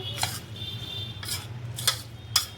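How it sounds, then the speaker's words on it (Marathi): Oats appe batter being mixed in a bowl, with four spaced metallic clinks of a spoon against the bowl over a low background hum, close and moderately loud, no talk. "हे सगळं मिक्स करून घेते मी आता."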